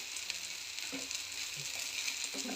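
Food roasting in a pan with a constant, close frying sizzle and hiss that carries on without a break, with a few soft stirring knocks beneath it.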